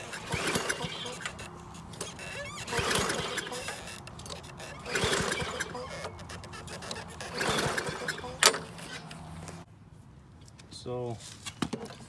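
A Yardman push mower engine that won't start is pull-started again and again: a series of rasping, rattling cranking bursts that never catch, separated by short pauses, with a quieter stretch at the end.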